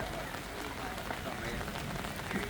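Steady rain falls on an open-air Thai market where vendors are sheltering, a dense, even patter that fills the scene with faint crowd bustle underneath.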